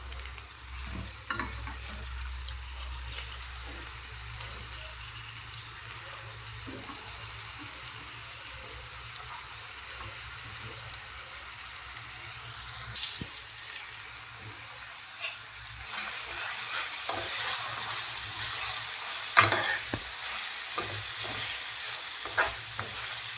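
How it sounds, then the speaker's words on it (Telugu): Brinjal and peas curry cooks in a pan with a steady soft sizzle and occasional stirring, growing a little brighter and busier toward the end; no one talks. "ఇలా మగ్గుతున్నప్పుడు ఉడికించి పెట్టుకున్న బఠానీని కూడా అయితే వేసేసుకుందాం"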